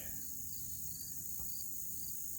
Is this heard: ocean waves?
no